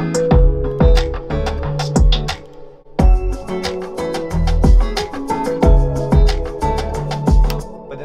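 A full music track with bells, punchy drums and moving percussion layered in, driving steadily at a loud level with repeating rhythmic hits and bright ringing accents throughout.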